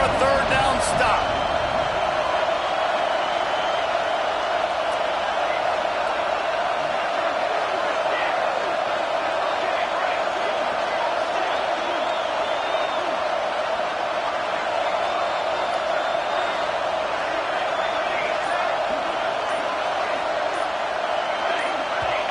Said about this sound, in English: The Wolfpack faithful screaming at the top of their lungs, desperate for a 3rd down stop.